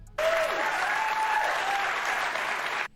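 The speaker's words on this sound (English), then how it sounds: "And then you hear everybody in the crowd clapping for it. They're applauding it." An audience crowd bursts into a burst of clapping and applause that holds steady for under three seconds, then stops abruptly; a faint tonal voice trace sits under the start.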